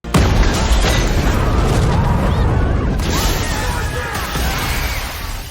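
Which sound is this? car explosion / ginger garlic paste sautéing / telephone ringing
car explosion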